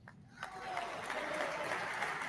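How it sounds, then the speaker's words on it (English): Sustained applause fills the Argentine Congress during Javier Milei's speech, a dense crowd of clapping heard from some distance, rising quickly and holding steady without a break. "Yeah, more applause"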